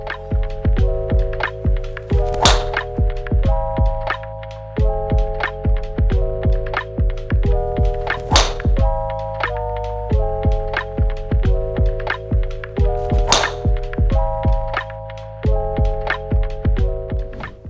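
PING G430 driver golf shots ring out as three sharp, loud strikes spaced about five seconds apart, set over steady background music with a regular beat.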